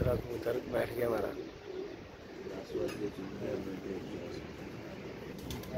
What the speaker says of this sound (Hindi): ये जी माशाल्लाह दूसरा कबूतर बैठ गया हमारा।